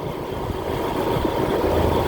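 A Honda TMX Supremo motorcycle on a night ride from Cavite to Manila gives a continuous, fairly loud engine drone mixed with road and wind rumble, steady throughout without clear revving.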